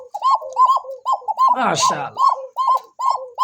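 Pigeons in a Bangladeshi fancy pigeon market coo in a steady rhythmic series of repeated calls, close and fairly loud, while someone speaks over them midway.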